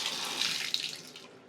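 Water runs from a tap fed by a tankless water heater in a house without a kitchen sink, a steady close rushing stream that tapers off as the tap is turned off.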